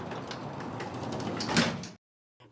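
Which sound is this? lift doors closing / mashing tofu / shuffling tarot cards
lift doors closing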